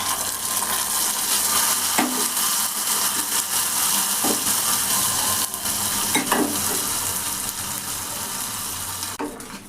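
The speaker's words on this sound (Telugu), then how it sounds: "ఇలా బాగా కలిపేసుకొని ఇలా మంచిగా కలిపేసుకుందాం" A spoon stirs a ghee-laden sweet mixture in a hot pan, producing a constant sizzle broken by several distinct scraping knocks against the pan at irregular intervals.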